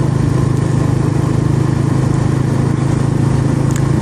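A Suzuki GSX R150 motorcycle with its stock exhaust runs at high revs, a loud, close, unbroken engine drone holding a steady pitch with no pauses.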